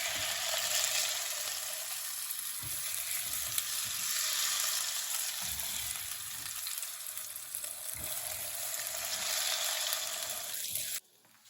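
Potatoes and carrots hiss and sizzle loudly in a pan, a constant close frying crackle with light stirring scrapes, which cuts off abruptly near the end.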